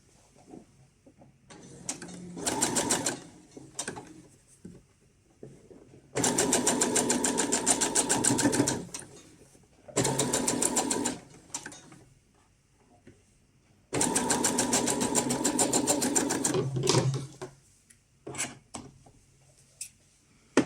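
A sewing machine stitches along the edge of a fabric hair scrunchie in loud, rapid bursts of mechanical whirring, several runs of a few seconds each with short quiet pauses and faint handling noises between them.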